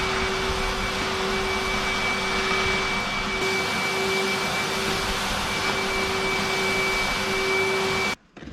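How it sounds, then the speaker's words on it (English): An old, heavy-duty vacuum cleaner runs steadily in a farm shed, a loud continuous drone with a high whine, then cuts off abruptly near the end. "So gonna get the old hoover running, the big brute"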